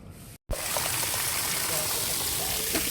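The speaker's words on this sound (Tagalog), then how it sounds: "Kahit naka-filter, ang laki ng tagas, eh, oh." Water gushes and hisses steadily at close range from a leak in a multimedia water filtration system, after a brief cutoff, a continuous rushing spray with faint voices underneath.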